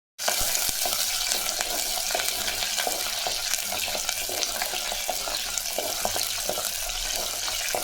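Green chillies and curry leaves frying in hot oil for a brinjal kara kuzhambu, a dense, steady close sizzle with fine crackling that starts abruptly and continues without talk.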